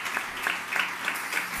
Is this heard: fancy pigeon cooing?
no